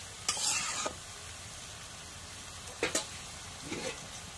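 Food stirred while frying in a pan in a home kitchen, with a few brief scraping strokes of the spoon over a low, steady sizzle, quiet and close.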